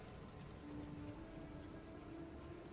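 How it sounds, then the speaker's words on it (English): Steady, dense rain falls across a Path of Exile 2 game scene, a soft continuous wash with a faint low hum running beneath and no voices. "it must be really raining out there"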